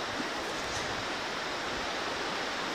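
A river flowing about 68 feet below an icy shoreline in late spring, heard as a steady, broad rush of water that stays even and unbroken, with no voices.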